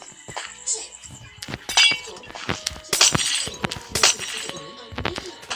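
In a video game, repeated sharp cracking and shattering bursts, several in quick succession, as blocks break apart, with occasional voices in between.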